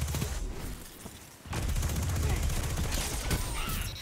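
Gunfire in the Destiny 2 multiplayer beta, a dense, continuous barrage of loud shots that swells after a brief lull and then stays intense.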